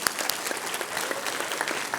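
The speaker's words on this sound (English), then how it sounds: "Give Kaylee and our development team a big round of applause." Audience applause at a Cap & Gown 2024 event, a dense, even patter of many hands clapping at moderate distance, steady throughout.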